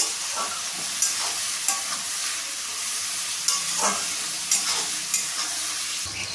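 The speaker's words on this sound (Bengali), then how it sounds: "এবার আমি ভালোভাবে নাড়িয়ে চাড়িয়ে আমি ভেজে নেব।" Onion, capsicum and tomato fry with a steady close sizzle in a pan, broken by repeated scraping stirs at irregular intervals throughout.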